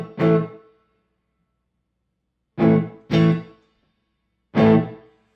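Electric guitar played through a Boss ME-90 T-Scream overdrive: four separate struck chords, each ringing briefly and fading, with two close together in the middle and silent gaps between the others.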